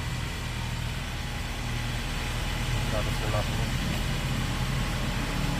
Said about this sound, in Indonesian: RPM mulai naik lagi.